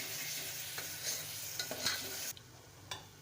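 Onion being sautéed with ginger garlic paste in a pan for a green moong usal, a steady frying hiss with scattered stirring scrapes, the sizzle dropping quieter partway through.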